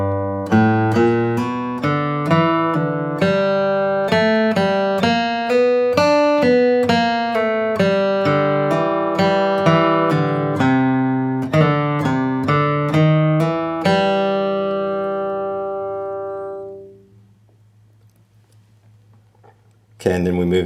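A flatpicked acoustic guitar plays a slowed bluegrass solo of Wabash Cannonball, a steady run of clear picked notes that rings out and fades near the end, close and alone.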